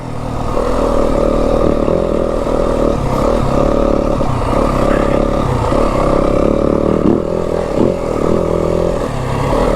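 A Yamaha WR 250F dirt bike engine drones steadily while ridden on a forest single track, loud and close with shifting revs, a feathered clutch and rattling chain and chassis clatter throughout.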